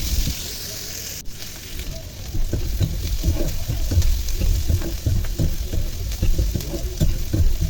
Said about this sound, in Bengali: একটা কড়াইতে তেল দিয়ে এর মধ্যে দিয়ে দিয়েছে কালো জিরা, পেঁয়াজ কুচি, রসুন কুচি আর কাঁচামরিচ